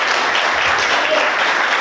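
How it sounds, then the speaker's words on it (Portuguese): A church congregation claps together in a sustained, dense burst of applause, loud and close, with no pauses. "Você pode aplaudir Jesus?"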